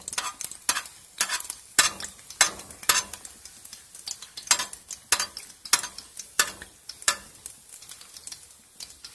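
Brik pastry sheets wrapped around a burger filling fry in oil, with rhythmic scraping and tapping strokes over a bright crackling sizzle, close and fairly loud, with no speech.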